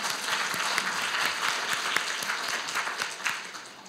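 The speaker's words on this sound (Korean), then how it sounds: "그래도 강릉까지 들릴 만큼 한 번만 더 큰 박수 부탁드립니다" An audience at the opening ceremony of an academic conference claps together in a dense, steady burst of applause, close and full, slowly tapering toward the end.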